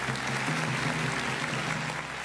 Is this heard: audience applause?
yes